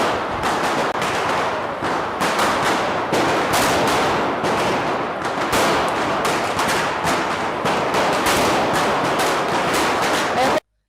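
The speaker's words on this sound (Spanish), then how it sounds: "Ay, yo necesito un petardo de esto." Dense volleys of firecrackers burst nonstop at a Fallas morning despertà in Valencia, loud rapid crackling that runs for about ten seconds and then cuts off abruptly.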